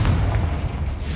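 Fiery Confringo blast spell from Hogwarts Legacy, a single sustained low booming roar that rumbles loud and close for just over a second with no voices.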